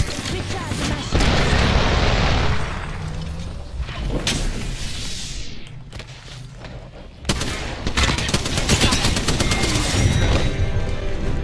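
Sustained video game gunfire with a heavy grenade blast breaking through the shooting, a deep boom that swells and fades before the rapid firing resumes loudly.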